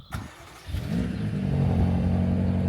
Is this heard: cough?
no